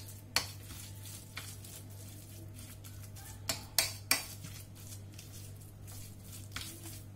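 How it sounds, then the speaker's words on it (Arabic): Spinach and cheese filling mixed with a utensil in a pot on a gas burner: a few sharp metallic clinks and scrapes, spaced unevenly, over a steady low hum, with no talking. "غادي نخلط كلشي."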